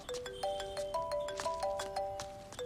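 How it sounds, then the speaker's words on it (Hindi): A phone ringtone plays a bright electronic melody of short, repeating tones that step up and down in a looping pattern, fairly quiet and heard on its own with no talking. "वाह, क्या रिंगटोन लगाई है तूने?"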